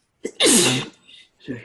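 One sharp, close sneeze, preceded by a quick intake of breath.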